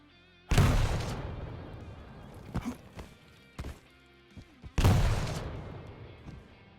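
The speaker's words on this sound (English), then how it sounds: "The more accurate I hit jump at the moment the rocket explodes under my feet, the higher I fly up" Rocket explosions during rocket jumps in Quake Champions: two loud, close booming blasts a few seconds apart, with lighter thuds and clicks of game action in between.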